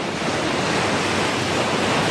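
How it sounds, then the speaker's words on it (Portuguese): Strong ocean waves breaking at a beach, a loud, continuous roar of surf with wind rushing across the microphone throughout. "Nossa, a onda aqui tá super forte, olha."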